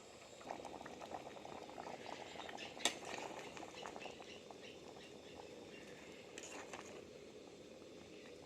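Bamboo shoot curry with pumpkin boils steadily in a pot, a continuous close bubbling and simmering with small pops and one sharper clink, no talking.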